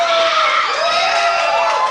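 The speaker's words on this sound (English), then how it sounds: "This is the kind of crowd where the fucking hecklers are heckling the hecklers" Comedy club audience hecklers shouting at a comedian, a dense wash of yelling and whooping voices, loud and sustained without a break.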